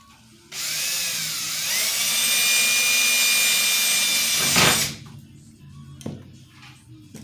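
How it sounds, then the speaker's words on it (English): A power drill fitted with a number 40 bit whines steadily at high pitch for about four seconds, close by, then winds down, followed by a couple of small clicks and handling noises. "And this is a 40 drill bit."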